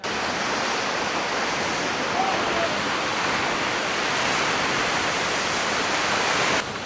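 Cold mountain water pours down a waterfall, giving a close, constant hiss of spray and rushing water with no breaks.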